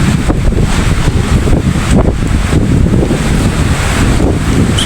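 Strong typhoon wind during Typhoon Tino roars in a loud, continuous buffeting rush, with heavy gusts battering the microphone and a surging, wave-like wash underneath.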